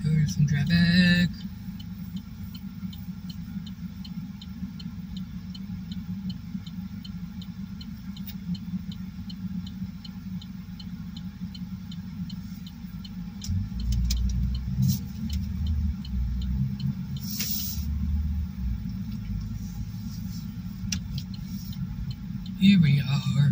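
Road traffic in Western New York heard from inside a moving car, a steady low engine and tire rumble with a louder swell of a passing vehicle midway.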